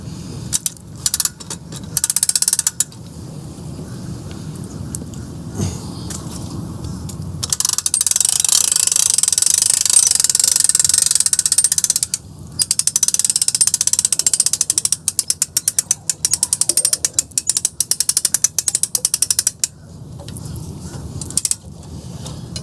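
Boat trailer winch ratchet clicker clicks in bursts of rapid, close metallic ticks between steady stretches of cranking noise and brief pauses, with no talking.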